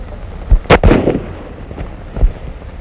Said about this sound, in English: Maybe you better practice on your shooting, huh? See if you can hit that air tree.